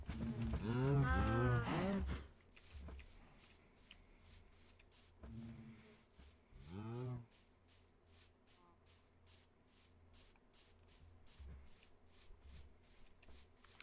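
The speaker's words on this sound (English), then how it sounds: "Plenty of cows." Two long, deep cow moos in Minecraft, the first loud and drawn out, the second shorter after a pause, over a faint rhythmic ticking background.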